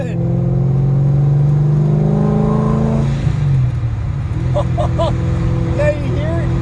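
An 800hp Chevrolet Corvette C6 engine on the street, a deep droning exhaust note rising then settling to a steady rumble while cruising on a cold day, with people talking over it.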